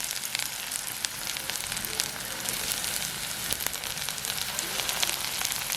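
Urad dal sizzles in hot oil as a tempering for a Jaffna-style long tom fish curry, producing a fine, steady crackling hiss at moderate level with faint occasional pops.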